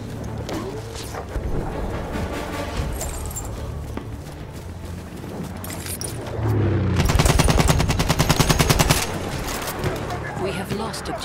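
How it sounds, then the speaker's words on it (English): Machine gun fire in the Battlefield 1 video game during a Conquest battle, with rapid bursts standing out loudest midway through amid continuous combat noise, scattered shots and voices calling out. "Machine gun over there!"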